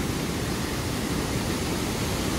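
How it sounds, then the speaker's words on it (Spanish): The Falls of Clyde waterfall at New Lanark pours heavy water in a dense, unbroken roar, loud and close throughout with no voices. "Si se oye algo, Falls of Clyde en New Lanark."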